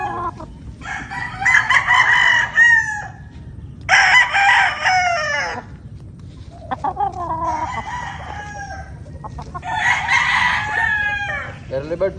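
A nine-month-old Possum Gilmore rooster crows close and loud four times in a row, each crow ringing out with brief gaps, over faint background noise.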